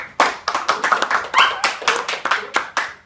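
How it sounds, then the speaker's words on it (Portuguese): A small group claps hands in an indoor gathering, about a dozen loud, close, uneven claps spread over three seconds with no talk over them. "Dá uma salva de palmas"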